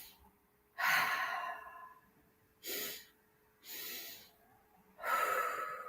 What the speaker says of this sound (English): we're going to take a double sniff in.